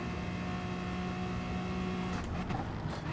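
Tyres squealing under understeer in the GT Sport racing game on the Dragon Trail track, heard as a steady engine drone with tonal whine, joined by rougher scrubbing noise toward the end.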